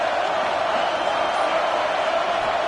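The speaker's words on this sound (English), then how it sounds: "decibels rising as the crowd gets behind this defense on third down" A football stadium crowd roars loudly and continuously behind the defense on third down, a thick, even swell of cheering with no single voice standing out.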